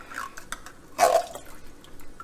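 A can and a half of liquid poured into a cooking pot for salt meat spaghetti, a short splashing gush at close range with scattered drips and clatter before and after.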